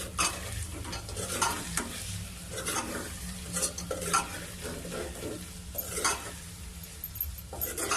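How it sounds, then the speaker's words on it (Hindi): Potato bhujia with turmeric and dried coriander is stirred in a pan, giving a steady low sizzle under repeated scraping strokes and occasional light clinks of utensil against metal. "ये शामिल करके हम इसे हिला लेंगे"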